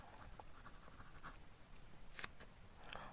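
A pen scratches across paper while working out a class six maths problem, a faint, close, irregular scribbling of short strokes and taps with soft pauses between them, and no one speaking.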